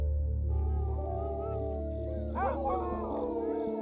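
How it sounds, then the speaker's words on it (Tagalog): Several dogs howling, long rising and falling wails that overlap and waver, heard over a low steady background hum with no talk. "Nakarinig kami ng alulong ng mga aso."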